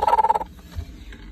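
A broody Aseel hen sitting on her eggs gives one short, throaty cluck up close, then falls quiet.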